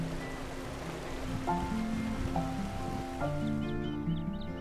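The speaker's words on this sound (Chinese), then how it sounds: "在社长的这个地方呢就在下雨" Rain falling on the Kiku bridge over the Uji River in Uji, Kyoto, a steady soft hiss of drops, with a faint tonal hum running underneath throughout.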